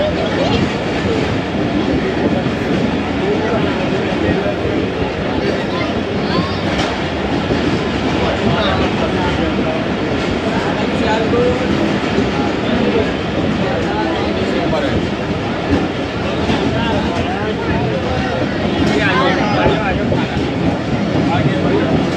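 The Allama Iqbal Express rolls into a crowded station on the Karachi to Raiwind line, a continuous rumble of railcars and clattering wheels running steadily throughout at close range.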